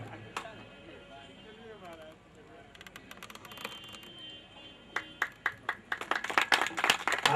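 Audience at a Ram Katha gathering in Lucknow breaks into clapping that begins in scattered bursts and swells into brisk, close applause toward the end, following a stretch of amplified speech.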